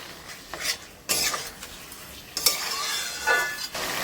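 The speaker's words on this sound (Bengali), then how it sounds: "আমি এবারে জল দিয়ে দিচ্ছি।" Water poured into a pan of fish and radish curry sizzles and bubbles, with spoon stirring and clinks of a pot in bursts, close and moderately loud.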